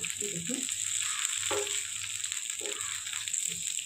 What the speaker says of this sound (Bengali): আমার একটা পাশ কিন্তু ভাজা হয়ে গেছে এবার আমি আস্তে আস্তে উল্টে দেবো